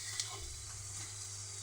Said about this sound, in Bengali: আর এই পনির কষানো হচ্ছে, আলুটা কষানো হচ্ছে।